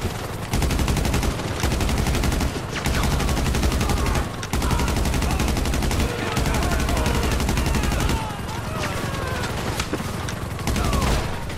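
Rapid automatic weapon fire from GTA Online rattles in long continuous bursts separated by brief pauses, loud and close, with dense overlapping shots throughout.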